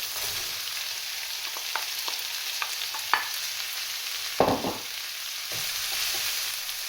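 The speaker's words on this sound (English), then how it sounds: "I'll put the courgettes in now." Yellow courgettes and beans fry in a pan alongside chard, a steady soft sizzle close by, broken by a few sharp clicks and a louder stirring scrape midway, with no talk.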